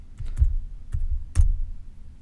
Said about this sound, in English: just type in your passcode again.